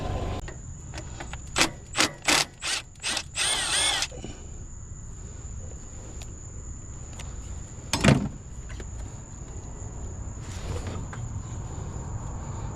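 A ground connection is tightened on a 2006 Subaru Forester that is not charging: a quick run of short mechanical bursts, then one sharp clank a few seconds later, all over a faint steady high whine.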